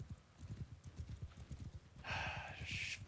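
Riderless horses in a video game battle clip-clop steadily at close range, rapid overlapping hoofbeats throughout, joined midway by a brighter, noisier wash of surrounding battle sound.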